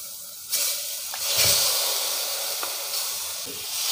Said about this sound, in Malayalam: ഇനി നമുക്കിതിലേക്ക് കഴുകി മാറ്റി വെച്ചിരിക്കുന്ന പോർക്ക് ചേർത്ത് കൊടുക്കാം